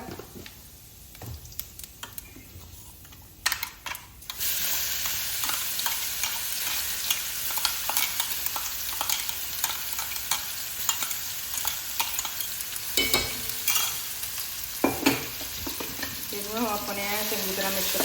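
Cumin seeds sizzle in hot oil for pickle tempering, a steady crackling fry that sets in after a few seconds of quieter clatter and runs on continuously at moderate loudness with occasional sharp ticks.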